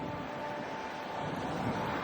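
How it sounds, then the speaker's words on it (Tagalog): Steady roaring wind of a sandstorm with rain in Saudi Arabia buffeting the microphone, a constant loud rush with no pauses. "malakas talaga yung hangin na may kasamang pag-ulan-ulan"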